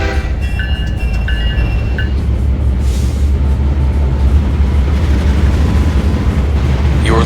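A train rumbles along a video game railway, its continuous heavy rolling noise loud and close, with a deep low drone and faint high tones near the start.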